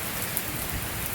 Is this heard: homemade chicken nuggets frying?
no